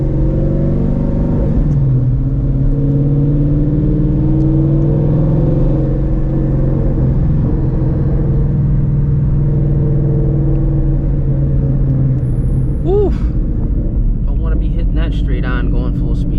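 A Shelby GT350 fitted with long tube headers pulls hard under full throttle, its engine a loud, steady rumbling drone with a rising whine late in the run, heard from inside the car.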